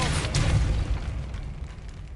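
Incendio fire spell cast in the video game Hogwarts Legacy: a single low booming burst that swells early, then settles into a fading rumble, no voice over it.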